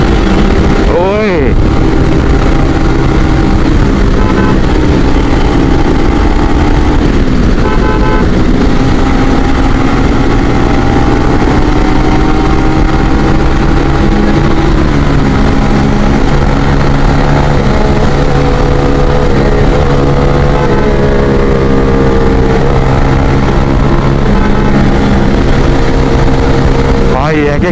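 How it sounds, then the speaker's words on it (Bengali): A group of motorcycles at a friendly bikers' meetup, riding together with loud engines, gives off a continuous, heavy rumbling drone that rises and falls in pitch throughout. "এক একটা বাইকের লাউড আমার কানের ভিতরে বুম বুম করতেছে"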